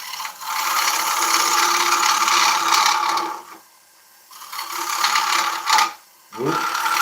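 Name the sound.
wood lathe turning ash at 660 rpm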